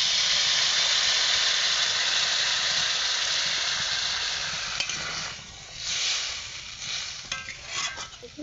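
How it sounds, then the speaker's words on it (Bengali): Hot water poured into a pan of potatoes already browned in spices, for a thin rohu fish curry: a loud, steady broad hiss and sizzle that eases off toward the end with some stirring clatter, and no speech. "এবার এর মধ্যে দিয়ে দিচ্ছি গরম জল।"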